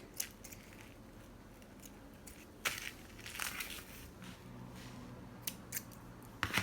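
Quiet scissor snips trimming loose decorative strings on a craft witch hat door hanger, a few scattered sharp clicks spread out over a soft hushed background.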